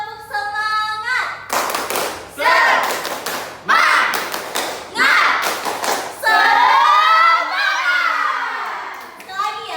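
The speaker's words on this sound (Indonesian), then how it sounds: "Kita tepuk semangat dulu ya." A school class clapping the rhythmic tepuk semangat chant: loud bursts of many hands clapping together in patterned groups, with children chanting along between the beats and a teacher's voice before and after.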